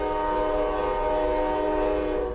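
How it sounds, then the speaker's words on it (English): A train passes close by the railroad, its horn blaring a loud, sustained chord over the low rumble of the cars, steady and near throughout. "Yeah, that's a train. I live real close to the railroad."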